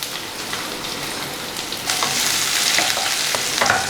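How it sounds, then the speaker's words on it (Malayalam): Chopped onions sizzle steadily in hot oil with dried red chillies and curry leaves, and the frying grows louder and busier partway through as they are stirred. "ഇനി ഉള്ളി ഒന്ന് ബ്രൗൺ കളർ ആവണ വരെ നമുക്ക് നന്നായിട്ട് വഴറ്റി കൊടുക്കാം"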